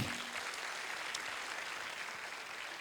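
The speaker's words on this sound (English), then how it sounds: "One big round of applause to all of you." Audience applause at a talk on India's martial strength, a steady, fairly distant wash of clapping that holds evenly without any voices.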